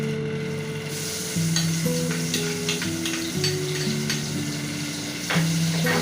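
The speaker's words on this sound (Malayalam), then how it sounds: "മീൻ വറുത്ത എണ്ണയിൽ തന്നെയാണ് അരച്ചരപ്പ് ചേർത്ത് കൊടുക്കുന്നത് കേട്ടോ." Ground masala paste sizzles hard in oil left from frying fish, a loud, continuous crackling hiss with occasional stirring scrapes and a faint steady tonal hum underneath; nobody speaks.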